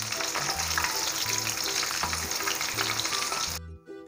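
Chicken lollipops deep-fry in hot oil with a dense, continuous crackling sizzle over a repeating backing tune. The frying stops abruptly near the end, leaving only the music.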